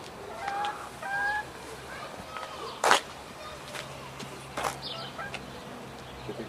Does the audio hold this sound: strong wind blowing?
no